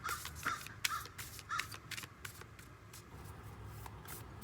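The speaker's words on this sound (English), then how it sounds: "There's about 4 crows here right now." Several crows caw in short, spaced bursts over a steady outdoor background hum, the calls fairly distant and moderately loud with no talking.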